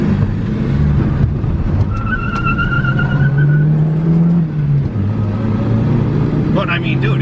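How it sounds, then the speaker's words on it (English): A car with a 59-horsepower engine sits at a high idle after a dyno run, a steady low drone holding loud and close throughout, with a voice talking over it. "It does have a little high idle now after the dyno."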